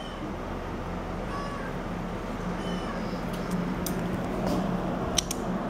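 Kittens at an animal shelter meow in short, scattered cries over a constant low background hum, the calls faint to moderate and growing a little busier toward the end.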